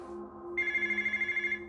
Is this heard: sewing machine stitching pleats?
no